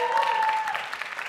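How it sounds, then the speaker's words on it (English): Brief audience applause for a band and singers after a live performance, a dense patter of clapping from a crowd with a faint sustained tone underneath, fading slightly toward the end. "Another round of applause for them."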